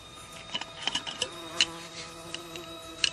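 A bee buzzing in a 1992 television drama, faint and uneven, with its drone coming and going in short bursts over a quiet background.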